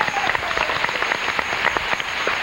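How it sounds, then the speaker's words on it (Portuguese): Studio audience applause on a Brazilian TV variety show, a dense steady patter of many hands clapping throughout, fairly loud and continuous with no voices on top. "A Analice, uma salva de palmas para a Analice."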